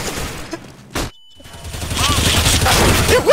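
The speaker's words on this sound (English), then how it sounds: "Deploying flashbang." A flashbang grenade goes off in the Counter-Strike map de_Train, a sharp loud burst amid game gunfire, followed by a brief ringing tone and a dip to near silence before the noisy combat returns.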